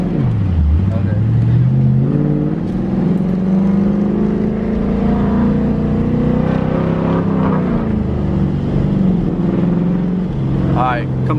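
A small car picks up speed as the driver presses the gas, its engine note rising and holding steady up close while a voice talks over it.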